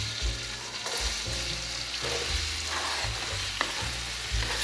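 Sliced onions sizzle and fry steadily in a pan for a fish curry, with repeated scraping stir strokes and low clattering bumps against the pan, close and continuous with no talking.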